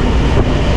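A MEMU train running along the Bharathapuzha riverbank between Palakkad and Thrissur rumbles loudly and continuously, heard from close by onboard as a dense, steady rolling roar.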